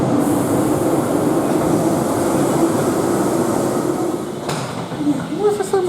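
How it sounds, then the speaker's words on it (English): A train pulls out of a station, a loud, steady rumble of wheels and carriages close by that eases slightly toward the end, with a brief squeal or tone at the close. "Unfortunately, we didn't end up getting a seat on this train, and it ends up leaving without us."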